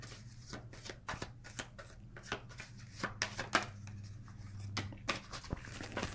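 Tarot cards are shuffled close and quietly, a quick run of crisp riffling taps and soft slaps in an irregular rhythm over a faint low hum, with no talk.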